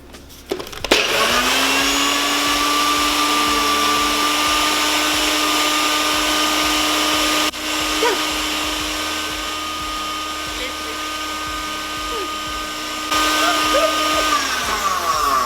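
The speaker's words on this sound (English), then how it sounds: "I am going to try to mince and crumble my Oreos with the butter in my Ninja blender." A Ninja blender runs continuously, mincing Oreos with butter, giving a loud, steady motor whir after a brief start-up, with slight changes in load partway through and a rise in strain toward the end.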